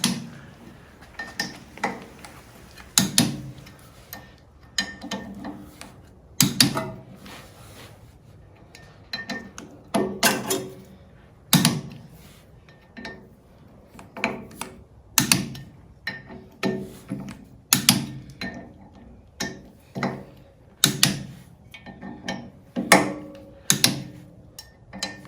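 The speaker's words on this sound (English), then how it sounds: "Gonna grab that torque wrench." A torque wrench being worked on a 40 HP air-cooled VW engine during a rebuild: sharp ticking and clicking strokes come in irregular clusters throughout, close and moderately loud, with no one talking.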